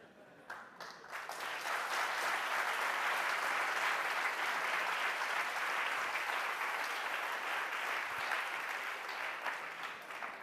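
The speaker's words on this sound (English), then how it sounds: "No need to applause for me," A lecture-hall audience at MIT applauds during a physics class on pendulums and gravity, giving steady, dense clapping that starts quickly and holds at full strength for about ten seconds without talk.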